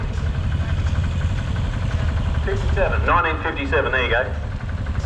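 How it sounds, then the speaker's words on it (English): A Lanz Bulldog H model, a single-cylinder diesel tractor with electric start, idles with a steady low chugging rhythm close by at a vintage tractor pull, while someone talks over it for the last couple of seconds. "she's driving a H model Lance Bulldog tractor"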